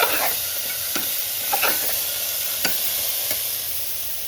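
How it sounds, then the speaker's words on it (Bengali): Lentils and potatoes fry in a pan with a steady broadband sizzle, while a spoon stirs them with several distinct scraping strokes spaced about a second apart. The sound is close and moderately loud, with no talking. "ডাল, আলু সব কিছু দিয়ে একটু ভেজে নিচ্ছি।"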